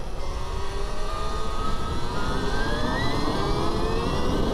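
A Stark Varg electric motorcycle pulls hard under opened throttle, a steady loud broadband roar with a rising whine climbing in pitch across the whole stretch, close up and without talk.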